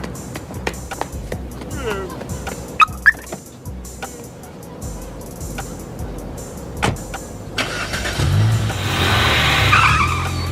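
A car skids with tire squeal during a quick swerve. Scattered knocks and rattles inside the car lead into a louder, rising rush of tire noise near the end, with voices faint in the background.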